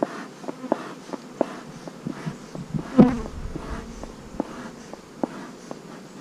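Bees swarm around an opened beehive, a constant buzzing drone broken by sharp ticks and taps near the listener, with one louder bump midway.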